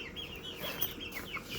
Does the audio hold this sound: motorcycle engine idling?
no